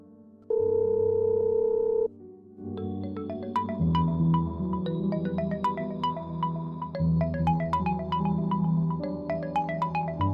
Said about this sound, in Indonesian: Padahal berdering loh.